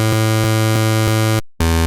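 A Serum synth patch blending a square wave with a second analog-style wave gives a buzzy pulse-width tone, a loud sustained held note with rhythmic pulses, a brief gap, then a fresh note.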